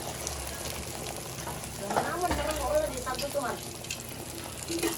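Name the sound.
scrambled egg sizzling in frying pan with black sisig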